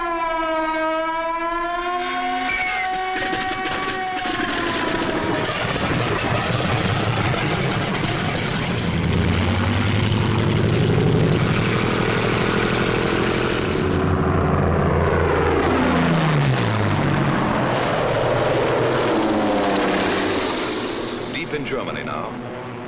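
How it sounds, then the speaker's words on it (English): WWII German Bf 109 and Focke-Wulf 190 fighters drone on old captured film, engine tones rising and diving in pitch with a siren-like whine, while a narrator speaks over them. "This captured film shows how quickly the 109s and the Focke-Wulf 190s got into action."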